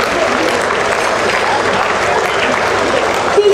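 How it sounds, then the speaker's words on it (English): A large ceremony audience keeps up steady, dense applause for departing leaders, the clapping continuous and full with some voices under it. "Keep clapping, keep clapping"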